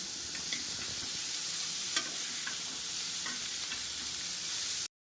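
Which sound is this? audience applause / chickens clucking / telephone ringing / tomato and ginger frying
tomato and ginger frying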